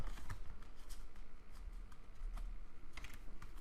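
Tarot cards gathered up and shuffled at close range, with quick riffling flicks and soft slaps of the deck repeating over a low, steady background rumble.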